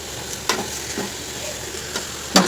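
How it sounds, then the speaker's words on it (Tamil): Spoon stirring and mixing ingredients for sura puttu (shark puttu) in a pan, soft scraping strokes with a few sharper clinks near the start and end, steady low sizzle beneath. "இப்போ எல்லாத்தையும் போட்டுட்டு மிக்ஸ் பண்ணிக்கலாம் ஃப்ரெண்ட்ஸ்"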